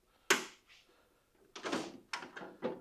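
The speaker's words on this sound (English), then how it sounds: "That's the drawer locks." A few sharp metallic clicks and clunks close by from the drawer locks of a new Tusk motorcycle toolbox, one at the start and then a quick cluster of three or four after a short pause.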